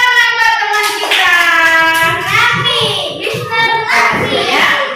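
Classroom children clap together for a classmate, mixed with chanting young voices and a teacher in an Indonesian lesson on solid shapes, close and lively throughout.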